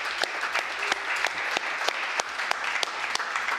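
A crowd at an awards ceremony for digital marketing agencies breaks into steady, dense applause with sharp individual claps standing out, loud and sustained throughout.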